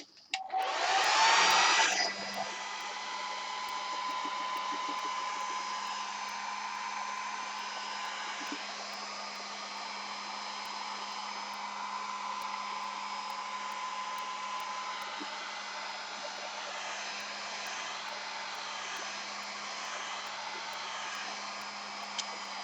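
A hair dryer blows steadily and loudly for about twenty seconds to dry paint on a gel printing plate, with a brief louder burst at switch-on before settling into a continuous whir.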